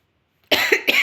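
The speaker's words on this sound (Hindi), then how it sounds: "खांसी की वजह से बोल भी नहीं पा रही हूँ अच्छे से" A woman coughs twice in quick succession, close and loud, after a brief silence; the bursts are harsh and raspy.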